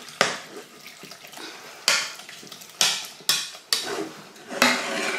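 Bolognese sauce is stirred in a pan with scraping, sloshing strokes and several sharp knocks of the utensil against metal, close and loud, with no talk over it.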